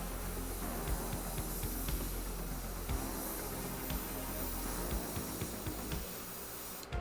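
A Harbor Freight budget airbrush sprays paint in a steady, close hiss that runs almost unbroken, with small clicks and bumps from the trigger, and fades slightly near the end.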